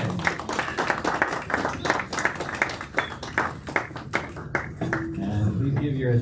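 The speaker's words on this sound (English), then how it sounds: "Let's have a big round of applause to our third grade boys" An audience gives a round of applause for third grade boys at a school Mishnayos event, dense clapping that fades as a voice begins speaking.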